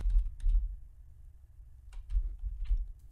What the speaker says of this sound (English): use my keyboard